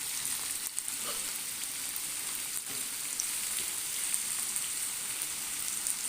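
Sliced potatoes frying on a hot tawa griddle, producing a steady, even, close crackling sizzle that continues unbroken with no voices.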